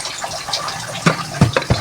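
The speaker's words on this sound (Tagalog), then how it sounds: "lalagyan na natin siya ng hot water" Hot water poured from a kettle into a pan of bitter gourd (ampalaya) in a home kitchen, a few short splashing gushes in quick succession, close and moderately loud with no talk.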